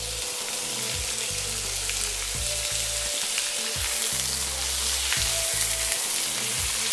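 Beef for a Thai beef dish fries in a hot pan with a loud, continuous sizzle, close up and unbroken throughout, with no voices.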